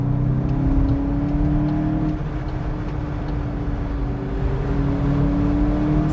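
A VW Golf 8 GTI accelerating hard in a rolling race, a steady loud engine drone with a rising tone held throughout, heard from inside the car with no talk.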